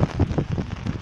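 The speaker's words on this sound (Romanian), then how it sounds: "Plouă de rupe cu găleata." Heavy rain pours down at night in Ștefănești, Argeș, in November, a dense, steady rushing patter close by with no pauses.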